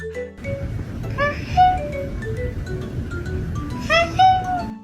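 A cat gives a couple of short, high, voice-like yelps resembling a hey, over a noisy background.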